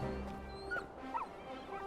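Torgal, a dog in the video game Final Fantasy XVI, whimpers in a few soft, high, brief whines over a steady low background hum, with faint dog-like yips mixed in.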